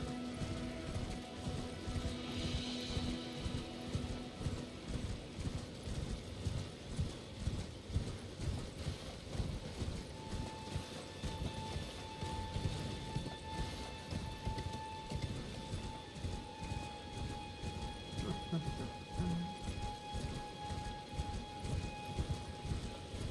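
A horse gallops in the video game Elden Ring with steady, rhythmic hoofbeats that continue throughout, set against a constant wash of rain.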